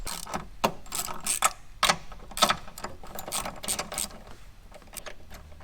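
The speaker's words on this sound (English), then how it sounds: "we're going to undo the two 12mm on top of the factory fuel filter" A hand ratchet works the two 12mm bolts on top of a factory fuel filter in a workshop, making quick bursts of close mechanical clicking in uneven runs with short pauses.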